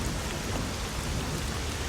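Heavy rain pours down in the video game S.T.A.L.K.E.R.: Shadow of Chernobyl, a dense, even hiss of downpour with no breaks and no voices.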